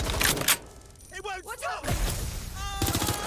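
Bursts of gunfire in the Watch Dogs: Legion video game crack in short volleys at the start and end, with shouting voices in between.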